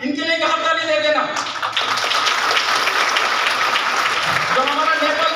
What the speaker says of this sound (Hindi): इनके लिए एक ताली दे देना।